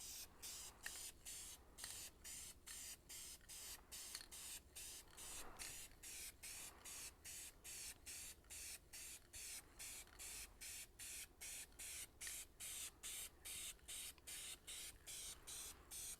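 Primer paint is sprayed from a can in a garage, heard as a steady run of loud, close hissing bursts separated by brief regular gaps, with no talking.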